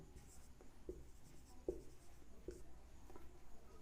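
Faint, soft scratching of a marker or chalk writing on a board in a classroom lesson, with a few sharper taps and strokes spaced out over a quiet room hum.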